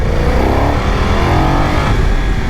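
A BMW F900 XR motorcycle's 100-horsepower engine pulls hard while commuting, giving a loud, continuous close-up engine roar with rising tone under wind rush, no speech.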